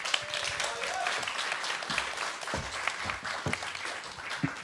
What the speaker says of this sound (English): So let's everybody give a round of applause for Adam back.